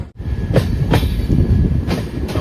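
The Netravati Express rolls along the Konkan Railway near Thokur in Karnataka with a steady, close rumble of wheels on rails, broken by several rhythmic clacks at the rail joints.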